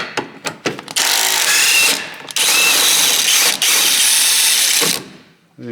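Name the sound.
power tool removing a bolt with an 18mm socket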